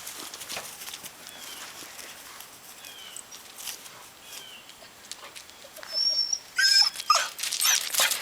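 Dogs moving about with clicking paws, then a burst of high-pitched whining and yelping grows louder near the end.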